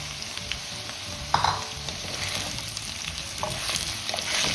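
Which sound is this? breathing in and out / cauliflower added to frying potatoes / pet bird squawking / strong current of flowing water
cauliflower added to frying potatoes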